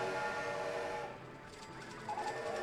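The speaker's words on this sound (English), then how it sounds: "Those train sounds" Train sounds in a theme park video game play as a sustained tonal whistle-like drone that fades midway, followed by faint rhythmic clicking and a short tone near the end.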